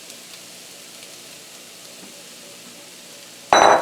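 Onion sizzles in olive oil in a skillet; a faint hiss runs quietly before a sudden loud burst of crackling sizzle erupts near the end.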